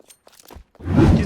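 Footsteps in CS:GO, a short gritty crunching burst after a few faint scattered ticks and scuffs, close and over in about a second with no talk.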